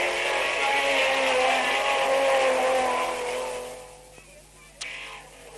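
XK-engined race car in 1974 Modsports racing at Aintree, blasting down the railway straight at full throttle, a loud sustained engine roar that holds steady then fades as it passes, with a brief sharp transient near the end.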